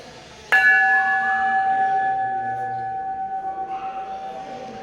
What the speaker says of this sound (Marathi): प्राचीन अशी लाकडाची घंटा. आम्हाला जरा वाजून दाखवा.